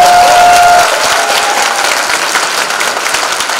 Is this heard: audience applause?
yes